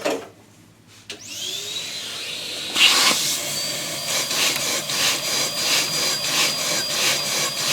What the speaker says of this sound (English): It's an air engine, it's together, and it works on either pumping air in or blowing a vacuum out.